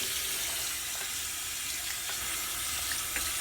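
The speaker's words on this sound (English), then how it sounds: "So I'm going to rinse that off." A tap runs steadily into a sink while makeup brushes are rinsed, a continuous close hiss and splash of water throughout with no speech.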